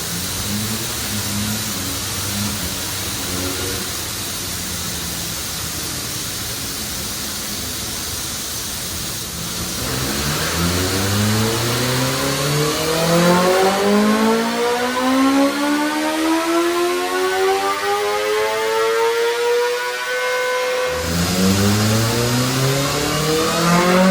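A 2026 BMW M1000RR motorcycle engine revs hard on a dyno, rising in pitch through a long sweeping pull, loud and close, then cutting back to idle with no talk over it.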